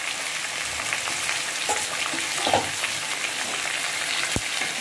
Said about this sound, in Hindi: देखिए इस तरह से सारे पपीता और आलू आप इसमें डाल लें और इसको अच्छा सा चला लें।